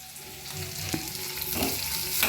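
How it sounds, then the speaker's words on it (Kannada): Capsicum, beans, carrot and onion fry in a hot pan with a steady, close sizzle, broken by a few stirring scrapes and clinks, and no voices. "ಈರುಳ್ಳಿ ಎಲ್ಲ ಹಾಕಿ ಫ್ರೈ ಮಾಡಿ"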